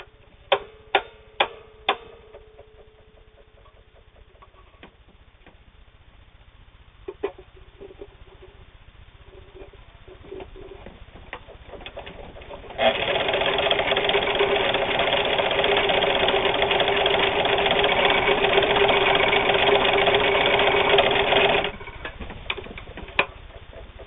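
A Meister sewing machine sews a scallop stitch, with a few ticks and clicks first, then a loud close steady mechanical whirring run of about nine seconds before it stops into more scattered clicks.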